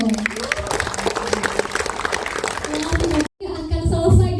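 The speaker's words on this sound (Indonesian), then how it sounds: "Tepuk tangan dong." Audience applause at an event with actress Prilly Latuconsina, a busy stretch of clapping under a murmur of voices that cuts off abruptly near the end, after which a tonal background sound takes over.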